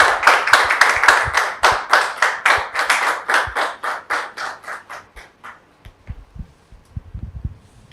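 An audience welcomes a guest with clapping in unison: about twenty sharp, rhythmic claps that slow and fade away, followed by a few scattered low thumps and near silence.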